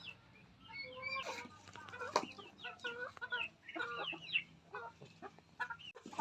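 Young chickens just out of an incubator, set in a scratch pen before weighing, cheep and cluck steadily in a busy overlapping chorus, close and fairly loud with no talking.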